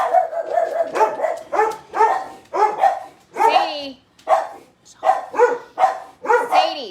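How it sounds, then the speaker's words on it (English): Dogs bark at plants outside in loud, close, rapid bursts of repeated barks, with a voice briefly calling a dog's name. "They're barking at the plants outside."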